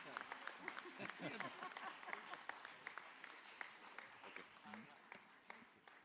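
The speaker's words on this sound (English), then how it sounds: "let's keep the applause going" A seated audience at a Save Soil event in Pune claps continuously in steady, dense applause, heard from some distance with a lively room sound throughout.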